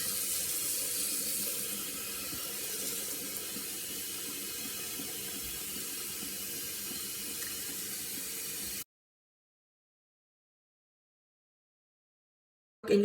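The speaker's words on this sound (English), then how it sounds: "I'm going to add enough water to top them by 1 or 2 inches." A kitchen sink tap runs into a pot of soaked dried black beans, a steady, even rush of water for several seconds before it stops, followed by near silence and a brief clatter.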